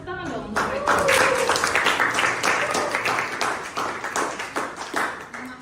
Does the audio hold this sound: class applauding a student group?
yes